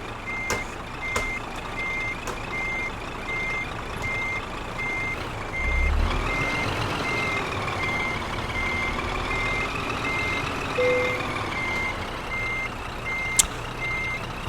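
A truck reverses with its warning beeper going, a loud, even series of regular high beeps over the rumbling engine, which swells partway through along with a rising whine, and no voices.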